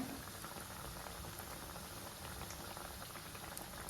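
Dahi kebab tikkis frying in hot oil over a raised gas flame, a steady, dense crackling sizzle with fine popping bubbles that holds at an even level throughout, with no voices.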